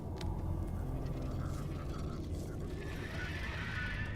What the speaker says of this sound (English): That sounds like a Terra fucking morph.